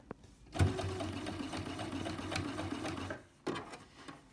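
A sewing machine runs a lock stitch at the start of a fabric face mask seam, with a steady close whirring burst of about three seconds, a pause, then a short restart.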